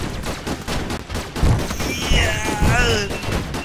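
Shotgun blasts ring out in the online game SQUADD.io, a few heavy booms amid rapid game gunfire and effects, with a voice talking over part of it.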